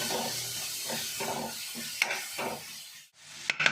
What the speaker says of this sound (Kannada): ಇದೆಲ್ಲ ಸ್ವಲ್ಪ ಚೆನ್ನಾಗಿ ಮಿಕ್ಸ್ ಕೊಟ್ಕೊಳ್ಳೋಣ